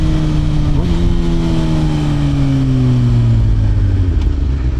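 A Suzuki GSX-R 750 sport motorcycle fitted with a Yoshimura R77 full exhaust pulls hard through the mid-range, its loud, close engine note climbing and then easing steadily across the clip with a quick shift early on.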